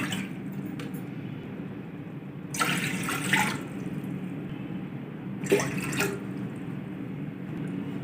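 Water poured into a cooking pan on a stovetop at home for moong dal halwa, arriving as two short splashing bursts over a quiet background hum.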